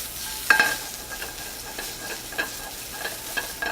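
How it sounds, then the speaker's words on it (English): Carrots sautéing in oil in a pan, a close, steady sizzle with occasional crackles and pops and stirring scrapes, with no voices over it. "get some nice oil into your pan. Okay, and you just want to get your carrots in there"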